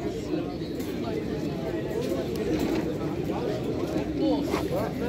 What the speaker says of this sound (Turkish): Çok güzel oyun kuşları var şimdi bugün burada.